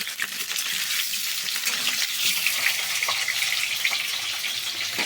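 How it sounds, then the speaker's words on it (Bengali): Potatoes fry in a pan in a home kitchen, giving a steady, bright sizzle with faint crackles and occasional stirring, close and continuous with no talking. "আর এখানে এই যে আলু ভেজে নিচ্ছি"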